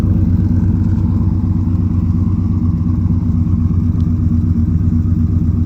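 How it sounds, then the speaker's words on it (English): A twin-turbo car engine idles with its electric exhaust cutout closed, breathing through a MagnaFlow exhaust with dual tailpipes, giving a steady, close, low-pitched burble that stays even and fairly quiet throughout. "So this is through twin turbos, the cutout closed, and a MagnaFlow with dual tailpipes."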